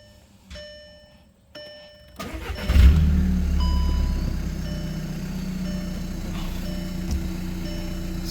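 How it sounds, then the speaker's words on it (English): A 2010 Volkswagen TDI diesel car, fitted with a new exhaust and a fresh tune and raised on jack stands, sounds two dash chimes and then cranks and fires, settling into a steady close diesel idle with no talking. "Let's go fire it up. Let's go and do the first startup here."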